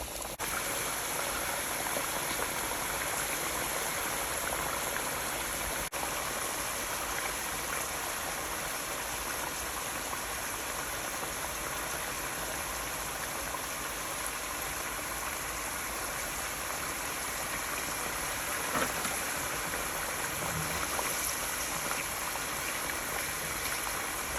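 Thick-cut french fries fry in hot oil with a steady, dense sizzle and bubbling hiss that holds level and close for the whole stretch, with no talking over it.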